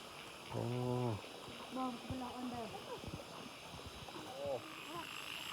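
Frogs croaking at night outdoors, a loud close run of rapid croaks followed by scattered calls over a steady trickle of flowing water.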